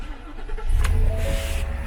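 A stock-exhaust car engine cranks with a brief whir and catches, its low rumble rising loud and close before settling into a steady idle, with no voices.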